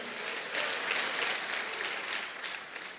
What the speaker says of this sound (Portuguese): Dá uma salva de palmas ao Senhor aí.